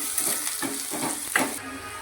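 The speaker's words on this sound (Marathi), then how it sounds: "तर आता फोडणी घालतोय वरणाला" A tempering of spices sizzles in hot oil as it is added to dal in a home kitchen, giving a moderate, crackling sizzle with a few small bursts throughout.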